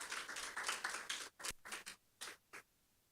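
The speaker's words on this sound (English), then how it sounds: "Let's applaud them." Scattered clapping from a graduation ceremony audience, a dense patter of hands at first that thins into a few separate claps and dies away.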